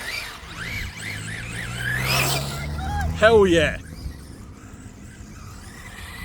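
A budget RC car, manually driven without a gyro, whines through rising and falling motor pitch, then lets out a sharp tire squeal while skidding. Someone talks excitedly over it.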